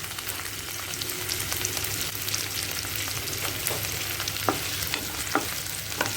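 Onions frying in oil for Kashmiri lal paneer make a steady, close sizzle with faint stirring clicks and occasional sharp pops, with no one speaking.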